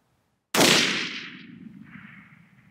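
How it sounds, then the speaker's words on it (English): A single loud, close rifle shot at a 1,000-yard range, a sharp crack that rings out into a long, fading echo. "I'll shoot another shot"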